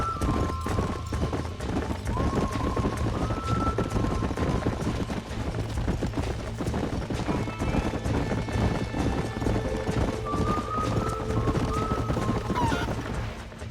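Horses' hooves clip-clop and pound at a gallop in a Red Dead Redemption game scene, a steady loud rhythm carrying on throughout, with a whinny and tonal ambient sounds layered over it.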